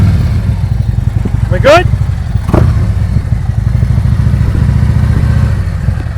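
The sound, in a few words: motorcycle slow-speed riding and braking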